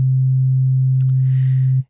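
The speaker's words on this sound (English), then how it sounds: "Let's get started with our just sine wave." A steady, pure low-pitched synthesizer sine wave tone in Bitwig Studio held evenly for almost two seconds before stopping abruptly, with a faint soft noise beneath it.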